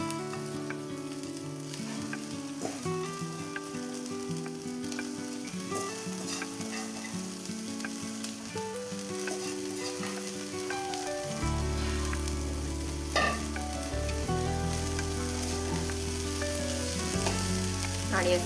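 Masala fries and is stirred in a pan with chopped coriander for Nagpur-style sambhar vadi, giving a constant close sizzle with occasional scraping and music playing faintly in the background.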